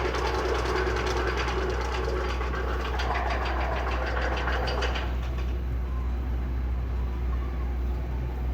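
An amusement park ride train at Six Flags Great Adventure rumbles and clatters steadily along its track, a continuous mechanical roar that thins out partway through, leaving a lower steady hum.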